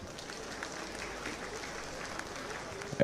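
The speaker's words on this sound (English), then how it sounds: "please, the men, clap for them one more time." Men in a crowd at the coronation of the Oba of Benin clap for their wives, a steady dense patter of hands under a murmur of voices, swelling at the very end.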